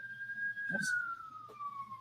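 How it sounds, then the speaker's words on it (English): A siren in California wails with a long, slowly falling tone, steady and fairly loud, with a brief low thump partway through. "Sorry for the sirens."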